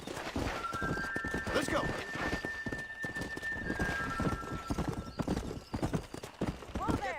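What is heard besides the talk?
horse galloping, clip-clop hooves, in Red Dead Redemption video game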